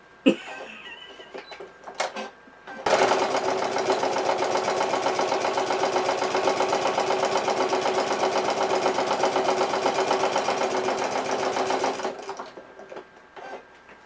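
A sewing machine stitches a fabric purse in one continuous loud run of rapid, even needle chatter lasting about nine seconds, with faint handling sounds before and after.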